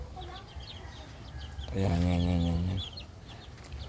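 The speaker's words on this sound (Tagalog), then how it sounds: "Yan yung mga sisiw na yan eh." Chickens and chicks on a farm cluck and cheep in scattered short calls, then one louder sustained cluck rises near the middle, close and clear over faint outdoor background, with a brief spoken word.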